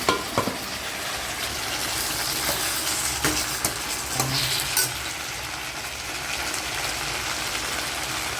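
Ingredients for a kuzhambu fry in a hot pan, with a continuous close sizzle and occasional scrapes and clicks of stirring, all steady and moderately quiet with no talking.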